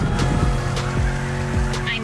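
Drifting car with a tonal engine and tire whine in The Crew Motorfest, steady and close, under a voice talking throughout.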